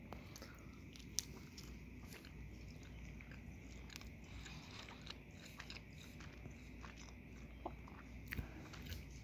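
Someone bites into and chews an A&W French Onion Burger close to the microphone, with soft wet mastication and occasional faint crunches, quiet and steady with no talking.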